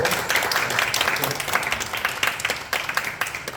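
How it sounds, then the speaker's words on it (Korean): A room full of people at a church youth worship service claps steadily and warmly after a prayer, a dense patter of applause lasting a few seconds. "축복 박수 해주시고."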